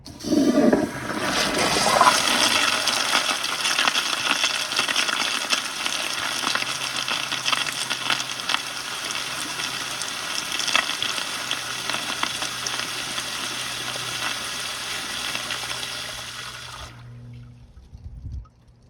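A 2015 Kohler Highcrest toilet on a weak flush setting, fed by a pressure tank, flushes with a loud rushing, hissing surge of water that runs steadily for about seventeen seconds and then cuts off abruptly.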